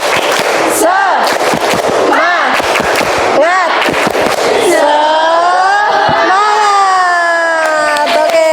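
A group performs a rhythmic 'tepuk semangat' clapping chant during an Indonesian teachers' session: a run of loud, sharp, patterned claps, then sustained shouted group voices ringing out close by.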